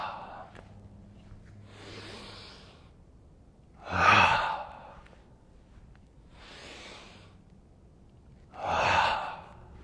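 Deep, slow breaths during a yoga flow, alternating soft inhales and louder, forceful exhales in a steady rhythm of about five breaths, close and alone.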